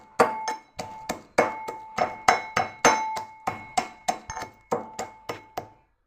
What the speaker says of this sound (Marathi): खलबत्त्यात चिरून घ्यायचा